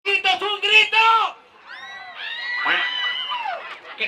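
A crowd of girls screams shrilly and excitedly for a reggaeton singer at a playback event, with high, wavering cries rising and lasting after a brief shouted voice at the start.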